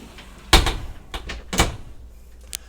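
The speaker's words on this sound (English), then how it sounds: "This door slides sideways and gives you access to your washer and to your dryer." A sliding closet door in a 2020 Cornerstone 45B rolls sideways on its track with a couple of knocking thumps and a rattle as it moves, close by, then settles.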